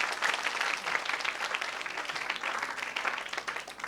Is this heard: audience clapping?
yes